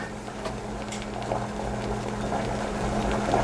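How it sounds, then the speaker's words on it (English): A lemon posset cream mixture bubbles in a pan on the stove, a soft continuous simmering hiss with faint gurgles and occasional stirring scrapes, close and steady. "we're going to let it continue to boil as we stir for 3 minutes before we take this off the heat"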